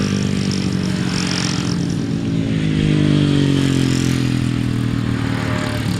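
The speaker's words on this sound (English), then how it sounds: "A big wheelie to finish for 33, Richard Smith." Grasstrack motorcycles racing at the 2007 Kent Kracker meeting give a loud, continuous engine roar that swells and fades slightly as the bikes pass, with no talking over it.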